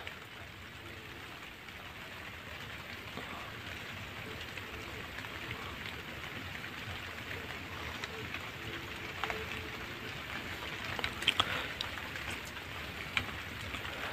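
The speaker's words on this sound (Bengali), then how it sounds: "গুড়ি গুড়ি বৃষ্টি হচ্ছে" Light drizzling rain patters softly and continuously, a faint, even hiss with a few scattered drops ticking nearby.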